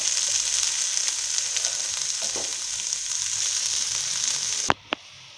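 Spinach, potato and eggplant with chopped garlic fry in a pan with a loud, continuous sizzle, then the hiss cuts off abruptly, followed by two sharp knocks of a utensil.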